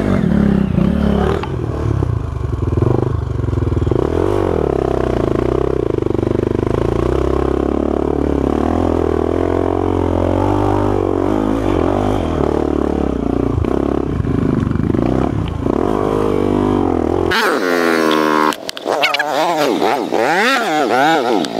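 Dirt-trail motorcycle engine running steadily and loud for most of the stretch, with rumbling revs close by and voices mixed in, then a sharper, rising rev burst near the end.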